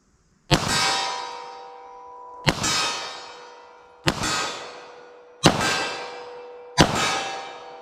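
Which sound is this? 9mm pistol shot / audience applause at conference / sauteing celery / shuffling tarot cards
9mm pistol shot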